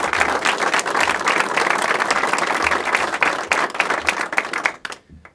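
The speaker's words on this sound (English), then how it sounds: "Round of applause for her," A crowd at a press event where the mayor names a new police chief gives loud, sustained applause with distinct sharp claps, fading away over the last second.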